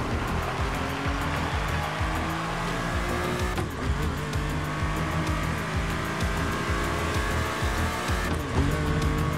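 A Porsche 911 in the racing game The Crew Motorfest drives at speed on a Hawaiian highway, its engine roaring steadily and loudly with shifting pitch and brief changes as it accelerates.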